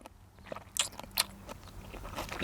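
Crunchy chewing of a spicy cuttlefish salad with hot dog, a few close crisp bites and crunches standing out over quiet background noise.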